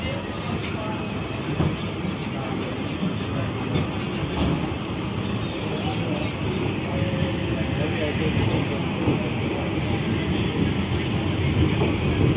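Ganga Satluj Express train running, a steady continuous rumble of wheels and carriages heard from on board, loud and unbroken throughout.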